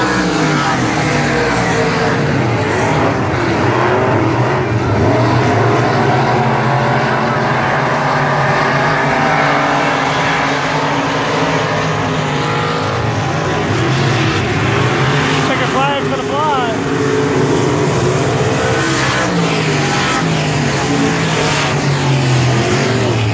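Race cars roar around a track during a heat race, a continuous, loud engine drone with rising and falling pitch as cars pass, with crowd and announcer voices mixed underneath.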